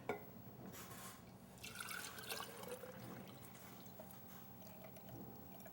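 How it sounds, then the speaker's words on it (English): Nut yogurt mixture poured into a mason jar in a home kitchen, a continuous liquid trickle and glugging with a few drips, close and moderately quiet, with no talking. "The next step is to get a mason jar, pour it in"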